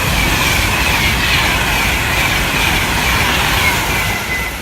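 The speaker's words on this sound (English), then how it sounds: "about to pass now again is another 390 Pendolino service for Virgin Trains" A Virgin Trains Class 390 Pendolino electric train rushes past on the West Coast Main Line at Tamworth, a loud, sustained roar of wheels and air with a whining tone, gradually easing at the end.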